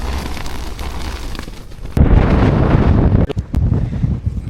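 Loud, roaring wind on a mountain summit buffeting the microphone, with a sudden stronger gust midway and rumbling turbulence throughout.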